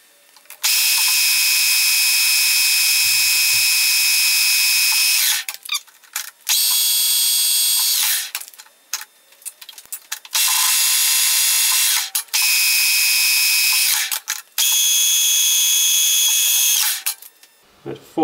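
A Colchester metal lathe cuts a knob extension, with a loud, steady high-pitched whine of the cut in several long passes broken by brief pauses and clicks as the feed is adjusted.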